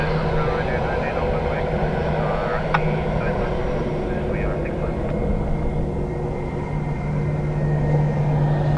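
An airliner landing at Dublin Airport makes a steady, loud broadband engine roar with a constant low hum that holds through the whole stretch, heard beneath faint radio chatter.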